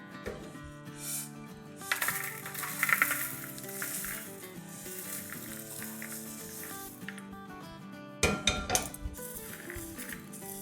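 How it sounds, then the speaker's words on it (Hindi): Crispy chivda, a snack of flattened rice, is stirred in a pan on the stove. A metal spoon scrapes and clinks steadily against the pan over a soft sizzle, with louder rattling bursts now and then. Nobody speaks. "देखिए बड़े अच्छे से आपको आवाज़ आ रहा होगा, क्रिस्पी करारा अच्छा सा हो गया है।"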